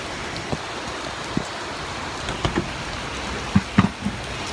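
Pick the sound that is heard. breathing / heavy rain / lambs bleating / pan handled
heavy rain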